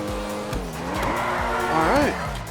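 A Comet Retro Custom sports car in GTA Online drives and brakes to a halt, its engine note rising and falling with gear changes and tires squealing as it stops, steady and close throughout.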